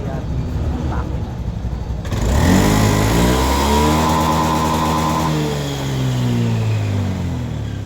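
A Honda Beat scooter engine revs up sharply, its pitch rising and falling through a sustained throttle sweep, close and loud, with a voice briefly heard underneath.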